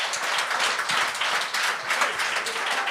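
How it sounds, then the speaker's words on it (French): A comedy show hall audience claps in a show-of-hands style response, a steady wash of applause at moderate volume without interruption. "par applaudissement, qui dans la salle connaissait Loïc de son premier passage?"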